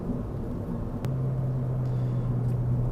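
A Ford Fiesta ST engine hums at steady revs, steps to a lower drone after a brief gear-shift dip, and holds there as a continuous in-cabin rumble, with no talking.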